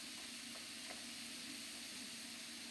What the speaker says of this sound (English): So it's really starting to sizzle nicely now.